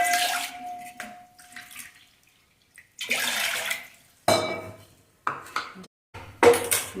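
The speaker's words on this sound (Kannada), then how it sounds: "ಫಸ್ಟು 2 ಕಪ್ ನೀರು ಹಾಕಬೇಕು." Water is poured into a cooking pot for making jowar roti by the traditional method, in short splashing bursts mixed with clanks of the metal pot, separated by brief quiet gaps.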